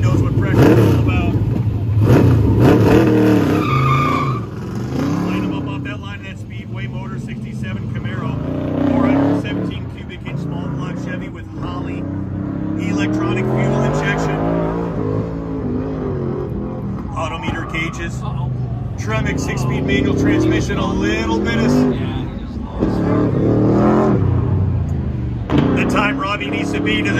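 A race car at a Goodguys autocross event in Des Moines roars and revs toward the finish line, its loud engine droning and surging continuously under an announcer's excited commentary.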